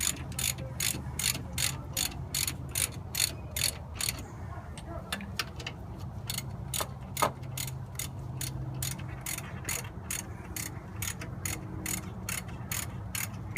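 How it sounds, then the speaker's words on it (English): A hand ratchet tightens rear brake bolts on a 2006 Cadillac CTS. It clicks in quick, steady bursts of sharp pawl ticks, pauses, then clicks again, close to the listener, with faint shop background. "And we'll get our ratchet. We'll get those things tightened up."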